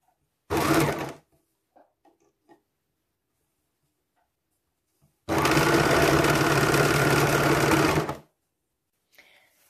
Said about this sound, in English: I'm just going to bring the edges together and sew down there.